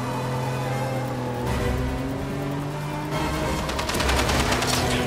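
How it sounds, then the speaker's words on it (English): Gunfire in the video game James Bond 007: Blood Stone, heard as rapid automatic bursts over a steady engine drone during a driving sequence, with no talk. "Stop shooting me!"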